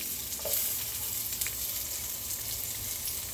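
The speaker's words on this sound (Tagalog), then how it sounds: "magigisa na tayo ng bawang, luya" Garlic and ginger sauté in a hot pan for pinakbet, giving a steady soft sizzle and crackle with a few brief stirring clicks, close and moderately quiet, no voices.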